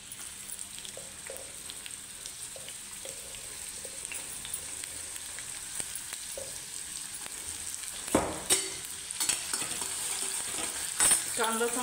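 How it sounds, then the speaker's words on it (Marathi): Onion frying in a small amount of oil, a constant low sizzle with occasional scraping stirs that grow louder and more clattery toward the end, close up and without speech. "कांदा चांगला तांबूस भाजून घ्यायचा"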